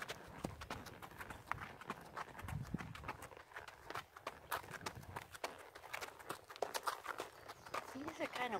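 Horse hooves clip-clopping at a walk on a trail at Lake Scott, Kansas, a steady uneven rhythm close by under constant wind and rustle.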